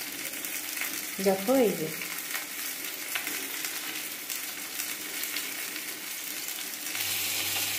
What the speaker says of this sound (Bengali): দেখো জল দিয়েছি অল্প করে, দিয়ে মশলাটা কষাই